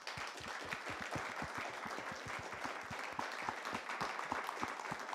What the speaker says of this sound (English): I want to have a quick round of applause for our speakers on the panel.